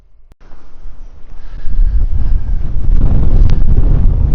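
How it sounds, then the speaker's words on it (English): Seaside wind at Aldeburgh, Suffolk buffets the microphone, starting faint and building to a loud, continuous rumbling roar. "Wafey, you've been blown away in the wind, Wafey."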